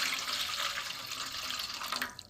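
Running tap water splashes steadily over food being washed in a sink while cooking Dhaba-style egg tarka, a close, continuous gushing rush with no talk.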